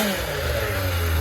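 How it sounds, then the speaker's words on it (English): Kawasaki ZX-4RR motorcycle fitted with a Graves header and stock exhaust can revs sharply, its pitch rising in one quick close-up burst. "listen to that Zx4rr with the stock exhaust"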